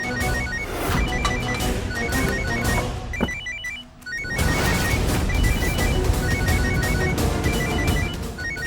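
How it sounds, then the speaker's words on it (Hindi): A phone rings repeatedly in short electronic bursts over busy background music, pausing briefly before the ringing resumes. "ये तो राध्या का फोन बज रहा है।"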